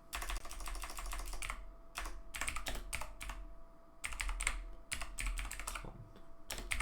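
Keys clatter on a computer keyboard in quick bursts broken by short pauses, close and clear, with no talking.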